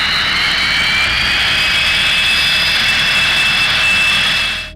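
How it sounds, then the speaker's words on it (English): Loud, continuous roar of a KC-135 Stratotanker's four J-57 turbojet engines at full power on takeoff, with a rising high-pitched whine over a deep rumble, fading slightly at the very end. "Engines thunder across the runway, 4 J-57 turbojets tearing the air in half and rattling the earth below."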